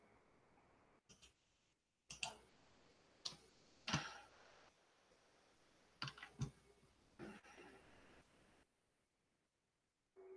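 A computer keyboard clatters in scattered bursts of sharp clicks, close and fairly quiet, with short pauses of near silence between flurries and no talking.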